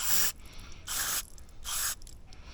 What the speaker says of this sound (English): I'm going to spray out these jets. These are the main jets.